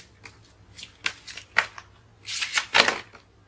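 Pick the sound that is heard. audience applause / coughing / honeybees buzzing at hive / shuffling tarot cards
shuffling tarot cards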